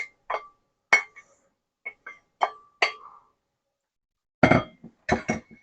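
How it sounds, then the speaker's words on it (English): Lid lifted off a pot of Boston baked beans, then utensils working the pan: sharp metallic clinks and taps, scattered at first, then a denser cluster of clatter near the end, close and dry with no talk. "We've had the lid on the pot for about 6 minutes. Let's take that off."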